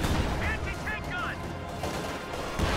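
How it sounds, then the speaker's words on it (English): Anti-tank gun fire in a World War II strategy video game, heavy booming shots over busy battle ambience with background voices. "Anti-tank gun!"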